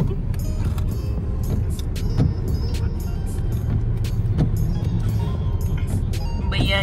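A car drives through East Memphis city streets, a steady road and engine rumble with passing traffic noise and scattered clicks, with people talking inside.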